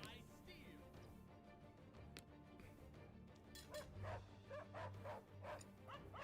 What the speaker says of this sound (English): maybe you need to change the sound effect on that dog, but here comes our dogs